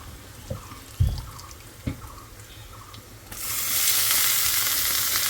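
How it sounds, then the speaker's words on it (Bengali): Cumin seeds hit hot oil for a bottle gourd and shrimp fry, with a few light clicks and taps followed by a sudden, loud, steady sizzle that holds to the end. "জিরা দিয়ে দিলাম"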